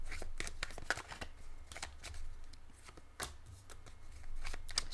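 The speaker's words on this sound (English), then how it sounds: "You got a really good shuffling there, Libra." A deck of tarot cards is shuffled close up in quick bursts of crisp riffling and flicking that pause and resume, with no talk.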